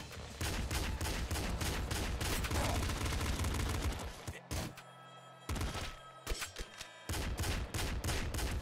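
Rapid rifle gunfire in the video game Nuclear Throne, dense bursts of fast shots with short pauses, loud and continuous, with a voice talking faintly underneath.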